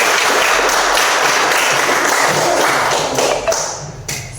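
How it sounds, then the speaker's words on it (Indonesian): Children in a classroom clap their hands together in a quick, dense burst of applause, loud and close, tapering off with a few last scattered claps. "Tepuk tangan untuk kita semua"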